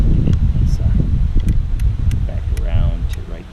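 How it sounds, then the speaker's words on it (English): Gusty wind on a blustery fall day roars steadily and close across the microphone, with a few sharp clicks and a brief rustle on top. "That wind is really coming."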